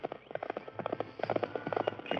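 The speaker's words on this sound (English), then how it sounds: "Half an hour later, the 2 men heard hoofbeats pounding on the trail beyond the grove." Galloping horse hoofbeats pound rapidly and steadily on a trail as a radio drama sound effect for a Western, fairly close and loud, with no voices over them.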